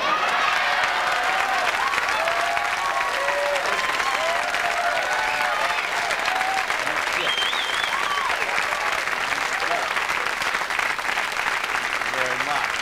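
Steady, dense studio audience applause from a late-night television talk show, loud and sustained with some cheering mixed in, and a voice speaking over it.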